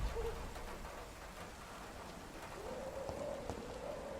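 Steady rain falls on an empty Whitechapel street in the video game Vampyr, a constant broadband hiss of drops that fills the whole stretch at an even level, with a faint tonal drone rising in the background.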